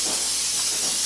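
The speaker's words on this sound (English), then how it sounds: "So I'm just going to spray this pan." Cooking spray hissing from an aerosol can onto a small muffin pan, one continuous loud, close spray lasting about a second with no talk.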